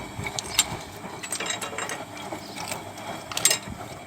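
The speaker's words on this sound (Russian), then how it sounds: "Видим, машиночка работает." A Samsung 5.2 kg washing machine runs after repair, producing a steady close mechanical churning with irregular ratcheting clicks and knocks over a few seconds.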